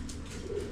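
A pigeon in a loft during trapdoor training gives a soft, low cooing burst, close and brief, over faint background hum.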